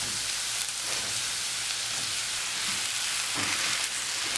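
Onions and potatoes fry together for a potato curry, a dense, loud, continuous sizzle like heavy rain close up, with a few soft stirring scrapes and no talking.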